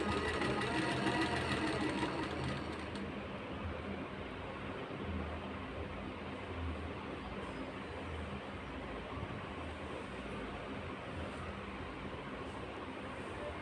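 A sewing machine stitches a trouser side pocket, running in a continuous fast whirring hum, close and steady throughout, with a slightly louder start and no speech.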